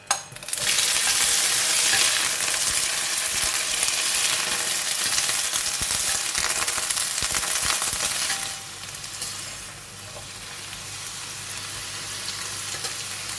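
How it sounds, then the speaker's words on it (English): French beans frying in hot oil in a pan for a stir fry with eggs, giving a loud, steady broadband sizzle that persists throughout and eases to a quieter, continued crackle near the end, with no talking. "Once the oil is hot, so I'm going to put in the beans."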